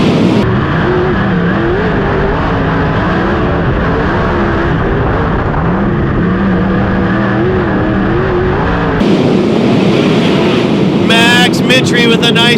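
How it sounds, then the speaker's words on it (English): 410 sprint cars race through turns 1 and 2 at Silver Dollar Speedway during the Mini Gold Cup, a loud, wavering wall of engine howl rising and falling through the corners, with an announcer talking over it. "Watching the cars get through turns 1 and 2."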